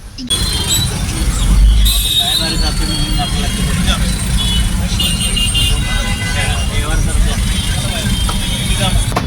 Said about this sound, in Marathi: रस्त्यावरती भरपूर ट्रॉफिक आहे